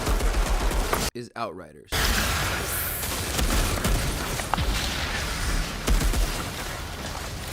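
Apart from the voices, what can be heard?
uncommon automatic shotgun firing in video game Outriders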